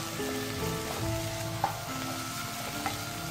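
Onions sautéing in a pan for a hotel-style mushroom biryani, a continuous soft sizzle with occasional light clicks of a spoon stirring, close and without speech.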